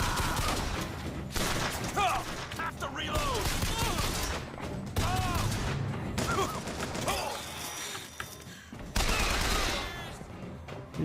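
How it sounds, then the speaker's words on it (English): A video game machine gun fires in dense, rapid bursts across the whole stretch, loud and close, with scattered other gunfire and game effects layered around it. "I need to hold that machine gun."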